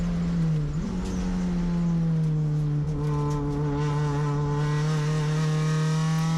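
An Acura RSX race car at Sonoma Raceway holds 4th gear through a turn, its engine droning loud and steady in-car, the pitch dipping and then climbing as it pulls.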